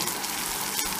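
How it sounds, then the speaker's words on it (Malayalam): Chopped coconut fries in ghee for jackfruit halwa, giving a steady, close, dense sizzle and crackle that runs unbroken throughout, with no talking. "തേങ്ങ ചെറുതായിട്ട് കൊത്തി അരിഞ്ഞെടുത്ത് വെച്ചിരിക്കുന്നത് ഈ നെയ്ക്കകത്തിട്ട് നന്നായിട്ട് വറുത്ത്"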